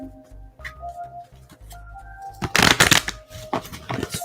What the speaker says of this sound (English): we shuffle 4, we cut 4